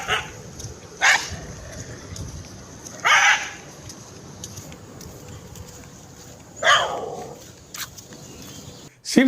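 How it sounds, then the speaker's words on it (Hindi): Stray dogs bark loudly on a street, with several sharp, separate barks spaced a few seconds apart over a low background murmur. "आपके सामने जोरों से भौंक रहे ये कुत्ते"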